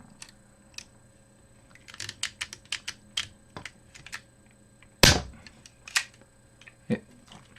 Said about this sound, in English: basically it's a cable tie gun